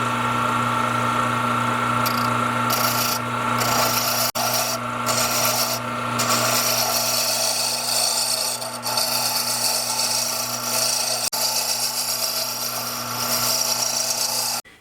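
A wooden pen blank spins on a lathe while a turning tool shapes it, producing a steady scraping, rasping cut over the constant motor hum, with brief pauses as the tool lifts away.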